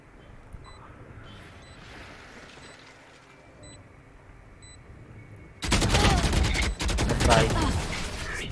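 Gunfire erupts in a Valorant match, starting with quiet in-game ambience and faint beeps before a sudden loud burst of rapid shots and heavy automatic fire takes over for the final few seconds.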